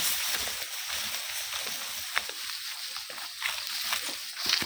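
Soft, irregular sloshing and lapping of river water being waded through in Oriental Mindoro, fairly quiet, with small splashes scattered throughout.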